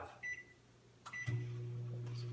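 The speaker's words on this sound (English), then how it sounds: "while that's cooking in the microwave" A microwave oven set to half power starts up after a couple of faint clicks and beeps, then settles into a steady low electric hum close by, with no talking.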